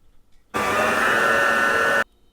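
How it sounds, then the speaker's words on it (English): A kitchen stand mixer beats cookie ingredients, a steady whirring motor hum that starts abruptly, runs evenly for about a second and a half, then cuts off to near silence. "I'm gonna put them into the mixer and we're gonna mix again."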